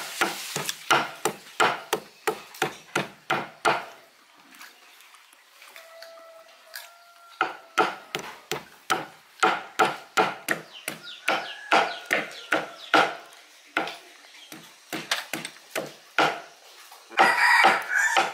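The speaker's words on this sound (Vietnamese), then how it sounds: "Băm ra từng miếng như thế này." Buffalo skin being chopped for a salad, a fast run of sharp cleaver strikes on a board with a short pause midway, close and crisp, while a rooster crows in the background.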